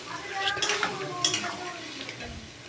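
Young green jackfruit pieces hitting a hot pan, with a soft sizzle under scraping, stirring strokes and a few sharp metallic clinks of spoon against pan.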